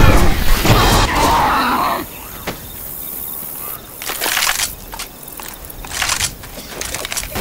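A Charger special infected attacks in Left 4 Dead 2: loud crunching smashes and thuds with guttural groans, in several sharp bursts over a rumbling game backdrop.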